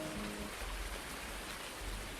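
Steady rain falling in Farming Simulator 19, a soft even hiss of drops pattering on surfaces, faint and constant throughout with no voices.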